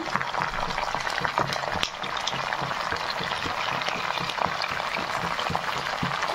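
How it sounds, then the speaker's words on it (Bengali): Vegetables with slit green chillies and dried red chillies cook in a pan with a dense, steady sizzling hiss and scattered scraping stirs, with no talking. "সবজিগুলো এখন দিয়ে দিচ্ছি, এটাকে একটু ভালো করে নেড়ে নেবো"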